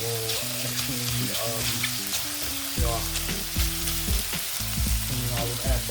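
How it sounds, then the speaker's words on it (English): Spicy chicken pieces fry in a hot pan, a loud, steady sizzle with occasional stirring scrapes running throughout, close to the pan and without speech. "fry till it's golden brown"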